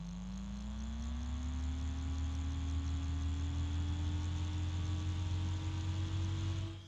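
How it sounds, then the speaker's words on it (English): A steady mechanical drone with a slowly rising whine, continuous and fairly loud, from a bgears b-blaster 140x38R with damaged ball bearings grinding as it spins. "I'm pretty sure that noise you're hearing is damaged ball bearings."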